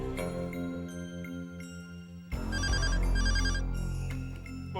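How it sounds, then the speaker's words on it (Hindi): A telephone rings loudly in a Hindi TV serial scene: a steady electronic ringtone with repeating bright chimes over a sustained musical bed that swells halfway through. "ये रजन लाल का फोन तो अभी तक आ जाना चाहिए था।"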